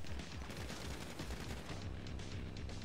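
Rapid video game gunfire crackles in a dense, continuous stream of shots, steady and fairly loud throughout with no pauses or voices.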